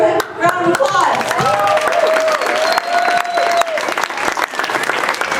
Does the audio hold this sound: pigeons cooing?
no